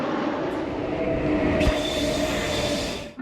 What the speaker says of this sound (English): Actually, that wasn't my train, but I thought it looked cool.